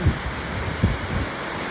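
A dense, steady hiss of heavy rain in Trakan Phuet Phon, Thailand, fills the air, with a couple of low thumps standing out from the downpour.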